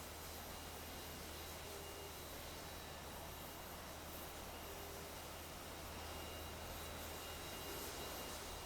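JAS 39C Gripen jet engine throttling up on the runway in the DCS flight simulator, a faint, steady broadband roar with a constant high whine and low hum, slowly swelling toward the end.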